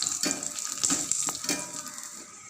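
Garlic and dried red chillies fry in a pan with a soft, crackling sizzle, broken by a few light scrapes and taps of a spatula stirring, close up and quiet with no talking.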